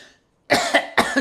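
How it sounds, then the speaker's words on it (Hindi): Two forceful, harsh coughs burst out close up in quick succession after a short pause, each one sharp and vigorous. "अगर छींक नहीं आ रही है तो जम के खांसिए"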